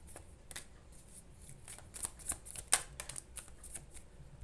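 Oracle cards being shuffled by hand for a pick-a-card reading, a soft continuous riffle of card edges with sharper flicking snaps clustered in the middle, close and fairly quiet, with no talking.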